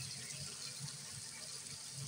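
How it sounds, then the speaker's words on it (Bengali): Water poured into a mustard hilsa fish curry, a quiet, steady splashing pour with a low bubbling rumble beneath, faint and close, with no speech. "পানি দিচ্ছি একটু, সিদ্ধ হয়ে গেলে তারপরে হয়ে যাবে"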